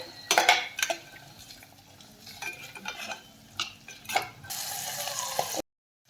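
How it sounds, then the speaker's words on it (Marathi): Green peas and green chillies are sautéed in a pan, with close clinks and scrapes of a spoon against metal over a light sizzle, then a brief louder burst of frying before an abrupt cut to silence. "हिरवी मिरची थोडी परतली की त्यामध्ये टाकून घेऊयात मटार आणि मटारही आपण एखाद मिनिटभर छान परतून घेऊयात"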